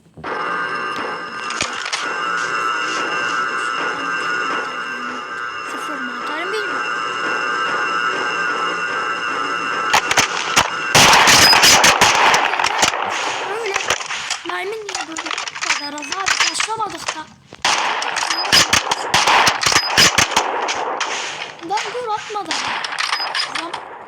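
M4 rifle fire from a Minecraft gun mod, a loud dense stretch of rapid shots and clattering game effects over steady background music, with brief pauses; a voice speaks at times.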